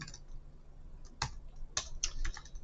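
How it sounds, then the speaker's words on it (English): Quiet, close keystrokes on a computer keyboard typing a git clone command, a few scattered taps at first, then a quicker irregular burst of clicks. "Git clone, and we're going to type the repo name"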